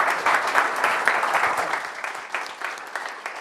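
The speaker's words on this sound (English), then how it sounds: "Round of applause there." An audience applauds, a dense steady clatter of many hands clapping close by that gradually thins toward the end.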